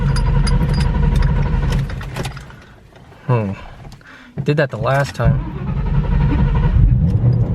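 A Ford Mustang GT500 cranks at length and then fires up, the steady engine rumble filling the clip around a brief quiet gap, with someone talking over it nearby.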